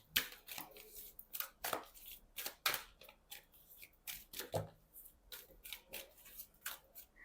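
Tarot cards are shuffled by hand in a quiet room, giving soft, rapid riffling and slapping bursts in an irregular rhythm, with light taps as cards drop.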